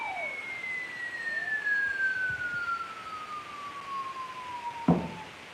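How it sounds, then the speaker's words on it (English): A single falling siren tone sweeps slowly downward over a steady background hum, ending with a brief clunk. "it makes a kind of a siren alarm"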